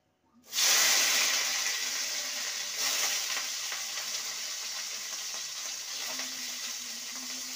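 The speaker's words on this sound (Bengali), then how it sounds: "এবারে উচ্ছেকে ভেজে নেব।" Sliced bitter gourd frying in hot oil in a pan, a steady loud sizzle with hiss that starts abruptly and continues evenly throughout, no voices.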